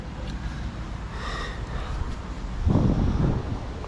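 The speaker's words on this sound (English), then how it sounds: "Man, it's getting windy." Gusty wind buffets the microphone with low rumbling noise, swelling louder near the end; no one speaks.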